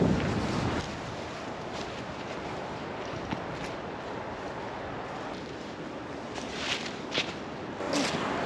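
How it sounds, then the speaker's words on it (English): Wind rushing through tall evergreen trees on a forest hike, a steady broad roar with gusts and faint rustles, close to the microphone and with no talking. "It's so windy, you can hear the trees creak in the wind."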